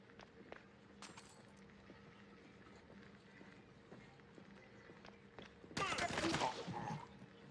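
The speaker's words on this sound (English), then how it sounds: "I'm just gonna shoot some guys." Gunfire from the NES Dick Tracy game: scattered sharp shots through a quiet, low-level game backdrop, ending in a loud, dense burst of rapid fire near the end.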